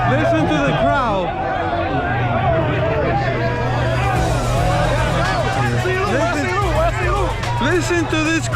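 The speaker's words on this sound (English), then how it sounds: "Listen to this crowd betting, side betting on my ski." Dense chatter and overlapping voices of a betting crowd at a jet ski drag race, continuous and close, with a steady low motor drone running beneath the babble.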